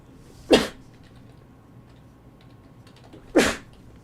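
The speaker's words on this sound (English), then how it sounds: "Guess what? I gotta sneeze." Two sharp human sneezes, close and fairly loud, spaced about three seconds apart in an otherwise quiet room.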